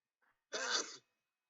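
A single sharp sneeze bursts out close by, loud and brief, preceded by a faint short intake of breath, then silence.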